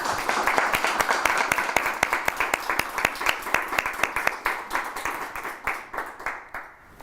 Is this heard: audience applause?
yes